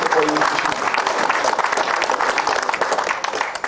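Audience applause at a political speech in Rawalpindi: a dense, steady wash of clapping fills the whole stretch at a loud, even level, with some voices mixed into it.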